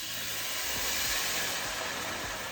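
Wine poured into a hot pan of sautéed garlic for a chicken dish sends up a loud, steady hiss of steam and sizzle that holds evenly throughout, close and without talk.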